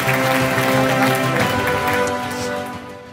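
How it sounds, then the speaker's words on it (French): A crowd at a French real-estate award ceremony applauds as an award recipient comes to the stage: a continuous, even wash of clapping over sustained background music, fading slightly toward the end. "que l'on applaudit pendant qu'elle arrive"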